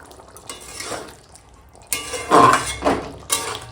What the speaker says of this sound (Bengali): মাংসটা হালকা হাতে গরম মশলাটা মিশিয়ে নিয়েছি সুন্দর করে